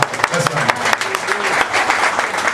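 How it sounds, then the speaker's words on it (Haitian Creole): An audience at an inauguration event applauds in a dense, continuous burst of clapping, heard up close with some voices mixed in. "demandez tout le monde un gros applaudissement pour l'initiative"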